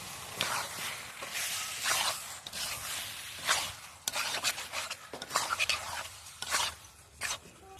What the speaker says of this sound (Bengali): এখন আদা রসুন বাটাটা দিয়ে দিব দিয়ে ভালো করে নাড়াবো